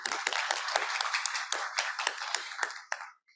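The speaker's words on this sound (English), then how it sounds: "join me in giving a round of applause to our 2 speakers today" Audience applause for two speakers at a business dialogue session, a lively burst of many hands clapping with sharp individual claps standing out, then tapering off and stopping abruptly near the end.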